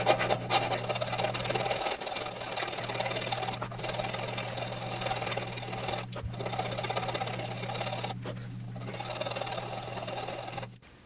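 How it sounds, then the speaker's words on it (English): Sandpaper rubbing steadily over a carved wooden Telecaster-style guitar top, a continuous close scratchy hiss with brief pauses between strokes, no talk. "I'll slay the rest with sandpaper."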